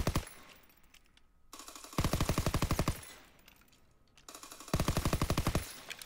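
Video-game machine-gun fire at targets in a free-for-all match with paratroopers, two long rapid bursts of loud shots separated by quieter gaps with lingering echo.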